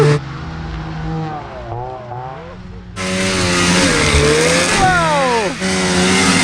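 A snowmobile packs snow to build a jump, its engine revving and winding up in rising and falling sweeps, close and loud, with voices talking over it.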